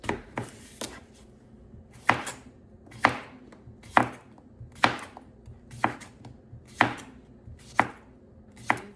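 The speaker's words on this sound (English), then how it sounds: "Cutting the onion." A knife slices through an onion on a cutting board in a home kitchen, producing about a dozen crisp, close chops spaced in a steady, unhurried rhythm.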